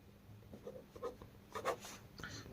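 Pen scratching on paper in short, quiet strokes while writing out a class 10 geometry proof about triangles, with faint background noise between strokes.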